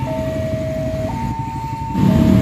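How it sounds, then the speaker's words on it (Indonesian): Penataran passenger train bound for Surabaya approaching a level crossing at night in Indonesia, a steady sounding horn shifting between pitches over a low rumble that grows louder toward the end. "segera melintas kereta api penataran dengan tujuan Surabaya"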